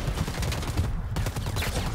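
Video game gunfire crackles in a rapid burst of shots, fairly loud and dense, with a brief pause midway before the firing resumes.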